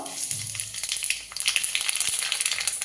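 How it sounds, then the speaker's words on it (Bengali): Nigella seeds dropped into hot oil left over from frying fish crackle and sizzle close by, with a dense run of sharp pops and spits over a frying hiss. "এই মাছ ভাজা তেলের মধ্যে একটু তেল দিয়ে নিয়েছি এবার একটু কালো জিরে ফোড়ন দেবো"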